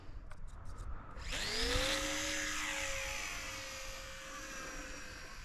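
A TopRcHobby Mini Warbirds P51 Blue Nose ready-to-fly RC plane spins up and takes off, its electric motor a loud, high whine that rises sharply and then holds steady as it flies, with no talk.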